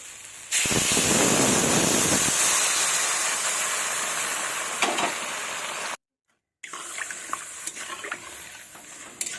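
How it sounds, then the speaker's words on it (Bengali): Water poured into a pan of well-fried spice paste made with dried red chillies, for a fish and papaya curry, hisses and sputters loudly and steadily, then fades a little, with a brief silence before quieter bubbling resumes. "এবার আমি পরিমাণ মতো জল দেবো"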